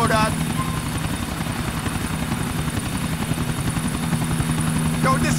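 Helicopter in Grand Theft Auto 4, a loud continuous rotor chop with steady engine whine throughout, and voices talking over it.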